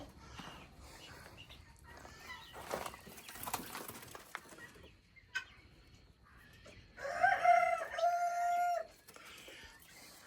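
A rooster crows once, loud and fairly close, a drawn-out call near the end that rises above quiet yard sounds, soft talk and scattered knocks.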